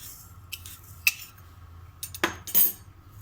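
Grated coconut, tutti frutti, chopped cherries and sugar being stirred together in a bowl for coconut buns: scattered light clinks and scrapes of a spoon, a few sharper knocks, with quiet gaps between them.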